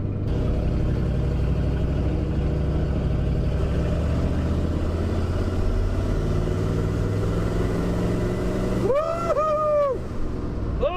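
Carbureted engine of a bone stock farm truck running rich, a loud steady close rumble that holds for most of the stretch before a brief whooping voice cuts in near the end.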